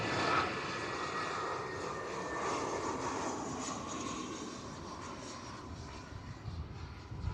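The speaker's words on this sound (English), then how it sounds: "EasyJet coming in from Charles de Gaulle," An EasyJet Airbus A320 arriving from Paris Charles de Gaulle gives off a steady, broad jet roar at moderate distance, holding level for several seconds at an airport with no voices.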